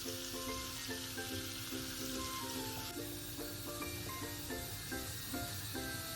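Cumin seeds fry in a pan for pav bhaji, a continuous hissing sizzle heard up close beneath a steady pattern of repeating tonal notes.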